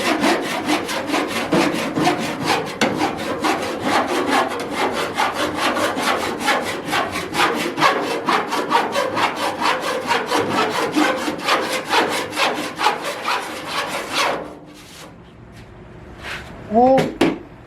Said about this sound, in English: Now we'll sand it, file it down.